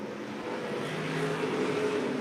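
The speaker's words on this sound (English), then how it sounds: "Let this white car come by now." A white race car passes on the track with a steady, moderately distant engine drone that grows slightly louder through the pass, and no voices.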